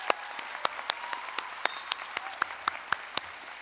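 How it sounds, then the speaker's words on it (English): A few people clap in sparse, separate claps for faculty and staff at a university information school graduation ceremony, moderately close, with no talking. "Let's do another round of big applause for this wonderful faculty and staff."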